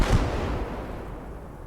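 A mortar firing in a wartime strategy battle game, set on a southern front: a single deep, booming launch thump at the start with a rumbling tail that slowly fades over the next second or so.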